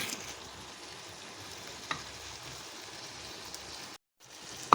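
Mutton keema with raw onion and chopped green chilli steaming on low heat, a quiet continuous sizzle with faint crackle and a couple of small ticks, briefly cutting out near the end.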